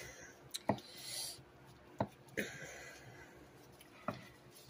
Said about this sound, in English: Let me cut some more of this butter.